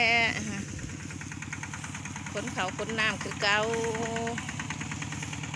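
A tractor engine runs at a steady, throbbing idle while rice is loaded in a rice field. Someone talks over the engine throughout.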